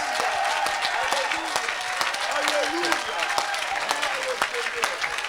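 A congregation at a French-language evangelistic service applauds and cheers, a steady loud wash of many hands clapping with crowd voices and shouts mixed in, sustained without a break.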